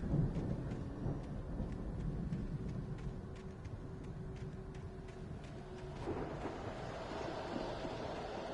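A thunderstorm rumbles in the game Alan Wake, a heavy low roar with rain-like hiss and a brief tonal hum, rising again near the end, no talk.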